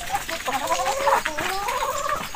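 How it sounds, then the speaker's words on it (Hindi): A black hen on a small farm in rural Uttarakhand clucks and warbles in a close, continuous series of rising and falling calls, heard clearly with no talking over it. "अभी जो हमारी काली वाली मुर्गी कुरकुरा रही थी वो चली गई अंदर"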